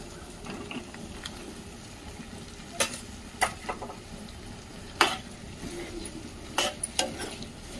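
Eggplant pieces frying in oil for a spicy masala eggplant curry give a steady low sizzle, broken by several sharp scraping clicks as a spoon stirs the pan, loudest around the middle and near the end.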